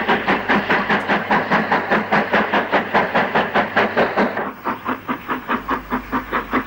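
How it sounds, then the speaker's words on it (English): Black 5 steam locomotive 45493 hauls a hopper train towards Snowhill on the 1960s Banbury to Birmingham line, its loud, evenly spaced exhaust beats pounding close by, then easing slightly as the train draws past. No one speaks. "A Black 5, 45493, pulls through towards Snowhill on a hopper train."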